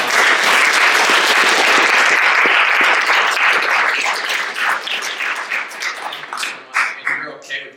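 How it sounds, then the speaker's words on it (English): Audience applause for speaker Dan Ford after a talk on the space race, full and sustained at first, then fading into scattered claps as a voice begins speaking. "Ford one more round of applause."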